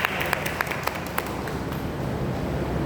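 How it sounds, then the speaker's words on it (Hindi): Loud applause welcoming a guest speaker fills a church hall in Mumbai, a dense wash of clapping with a few sharper claps standing out, no voices over it. "जोरदार तालियां बजाते हैं"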